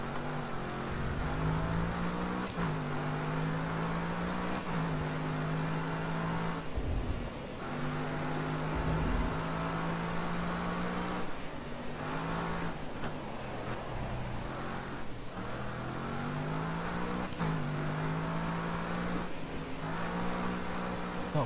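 Race car engines, including a Mercedes SLS, drone loud and steady in the racing game GRID Autosport, with the pitch rising and falling through gear changes across the whole stretch.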